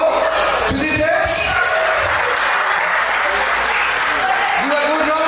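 Audience applause and cheering at a live auction event, loud dense clapping from a large crowd held steady throughout, with a few shouts rising over it.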